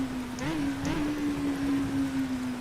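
Steady hiss of rain on a wet 1966 Hockenheim circuit in a racing video game, a continuous wash of falling water with a droning engine tone running beneath it, no voices.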